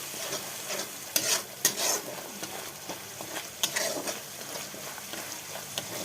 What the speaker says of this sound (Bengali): তো বন্ধুরা মশলাটা ভালো করে কষে নিচ্ছি।